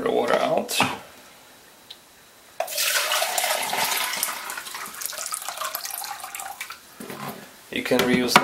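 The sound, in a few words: water poured out of a cyanotype tray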